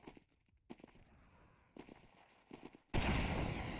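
A rocket jump explosion in Team Fortress 2 lands near the end as a loud, sudden broadband blast that holds steady, following a stretch of quieter scattered impacts and thumps.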